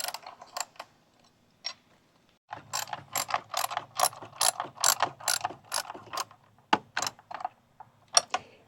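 Close, steady ratchet clicking while an oil catch can fitting is tightened on a 2023 Ford F-150, a few isolated clicks, a pause, then a long run of quick rhythmic pawl strokes.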